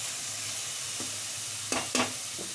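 Cleaned chicken frying in oil with onions, green chillies, tomato, cloves and masala for a gravy curry, a soft steady sizzle with a few clear scraping stirs of a spoon near the end.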